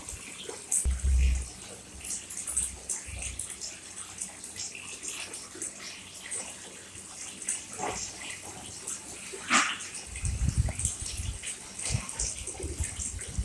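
Water runs and splashes into a container as a child plays at filling it, a steady watery wash with brief knocks and thumps, close by and fairly quiet.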